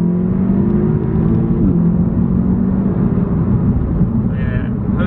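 An Audi S3 Saloon accelerates hard out of a corner, its exhaust rising in a steady, building drone heard from inside the cabin, loud and continuous with no break.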